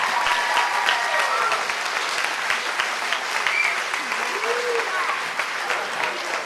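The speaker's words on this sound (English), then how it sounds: "Clap your hands much better than that" Audience at a fundraising gala clapping hard and continuously, dense close applause with voices and an occasional shout or whoop rising over it.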